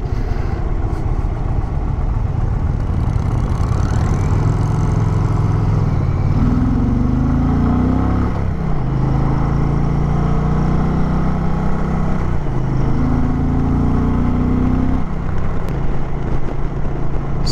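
A 2023 Indian Pursuit V-twin cruiser motorcycle engine pulling hard through the gears toward its redline, a loud, close, steady low rumble whose pitch climbs, drops at each shift and climbs again, with constant wind noise.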